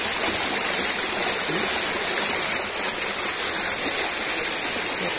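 Cold water flowing in a farm stream, a constant loud rushing close by, dense and even throughout with no pauses.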